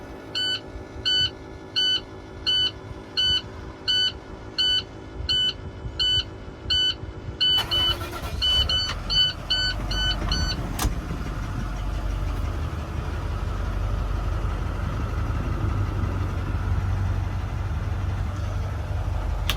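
A 2012 International TerraStar service truck chimes a repeating run of warning beeps, then its engine cranks, starts and settles into a steady, close idle that continues alone.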